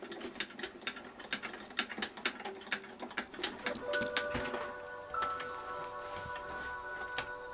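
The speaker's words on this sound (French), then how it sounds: "Je réalise mon sandwich entre mes plaques de ma machine de découpe et je procède à la découpe." A die-cutting machine rolls paper through its plates, giving a quiet run of rapid mechanical clicks and ticks that settles into a steadier whirring hum partway through.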